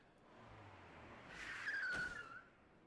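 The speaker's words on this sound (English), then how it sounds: "There was a sudden sound of screeching brakes, and Alan immediately hid Yuki" A single high squeal of car brakes in the video game Rose Guns Days rises over faint engine hum, peaking briefly and then cutting off, somewhat distant and quiet.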